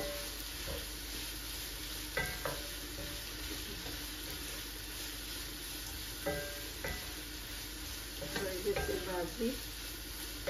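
Bean and potato curry sizzles steadily in a home kitchen pan, a continuous frying hiss broken by a few stirring scrapes and clinks of a spoon, nearby and moderately loud with no talk.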